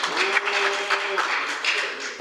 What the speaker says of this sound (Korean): 홍성국 자문위원장님에 대한 박수를 다시 해주시겠습니다